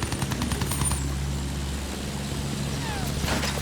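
Enemy plane machine gun fire in the video game Battlefield 1: rapid bursts of shots ring out early, over a steady low engine drone that continues throughout.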